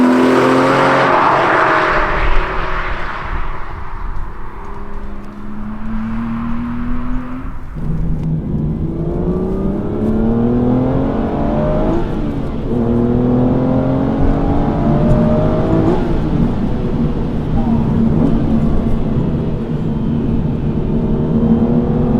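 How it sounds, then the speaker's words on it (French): An Aston Martin V12 Vantage with a naturally aspirated 6-litre V12 and three-pedal manual gearbox is driven hard, its engine droning loud and steady from inside the car, with rising revs and clear pitch drops at gear changes. "On a un V12 atmosphérique de 6 litres de cylindrée avec 3 pédales et une boîte manuelle."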